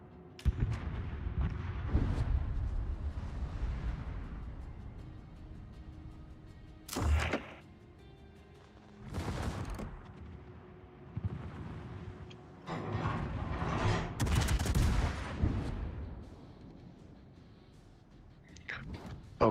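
A warship's secondary guns fire in World of Warships, with several separate heavy booms spaced a few seconds apart over a low rumbling engine and sea drone, moderately loud.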